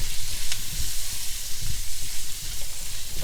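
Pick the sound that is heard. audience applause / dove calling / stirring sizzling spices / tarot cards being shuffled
stirring sizzling spices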